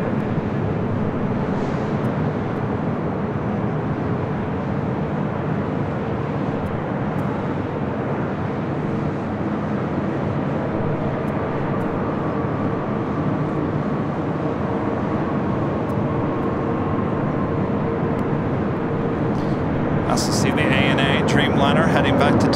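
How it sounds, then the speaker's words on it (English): An Emirates Airbus A380 departs LAX on runway 24 left, its steady, loud jet roar filling the whole stretch while a person talks over it. "Heading back to Tokyo Haneda, heading to 24 left. It's the Emirates A380."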